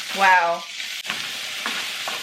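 Food sizzles steadily in a frying pan at a home stove, a continuous crackling hiss under a brief spoken exclamation and a few light clinks.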